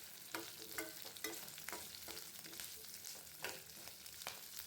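Curry leaves, onions and coconut being sautéed in a pan, a faint continuous sizzle broken by rhythmic scraping strokes of a spatula, no voices.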